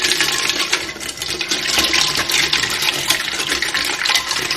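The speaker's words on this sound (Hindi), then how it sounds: "जितना इसको फेंटेंगे उतनी अच्छी बनेगी लस्सी आपकी।" A mango lassi with ice is whisked vigorously, giving a steady, loud, splashy churning that runs on without pause, close up and with no voices.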